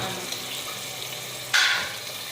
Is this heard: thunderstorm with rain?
no